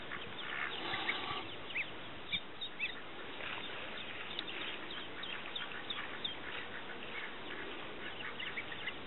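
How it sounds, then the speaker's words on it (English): Young ducks hatched from eggs last spring quack by a farm pond on a hobby farm, a small group giving short, scattered calls over steady outdoor background. "There's 5 of my little ducks I hatched from eggs this last spring."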